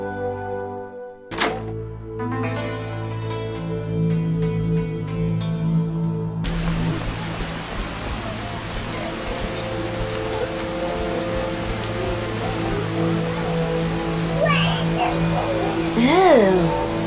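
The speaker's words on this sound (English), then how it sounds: "How sad when it rains." Steady rain patters over the soundtrack of the game The Witcher, with musical tones early on and a voice speaking near the end.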